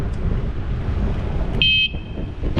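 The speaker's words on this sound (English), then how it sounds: "I have a horn and it's quite loud" A loud bicycle horn honks in one sustained blast at a car drifting into a bike lane on a busy Myrtle Beach boulevard, cutting through steady traffic and wind rumble.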